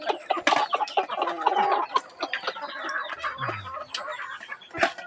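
Several chickens cluck and squawk close by, busy overlapping calls in irregular bursts, with a few sharper sounds mixed in.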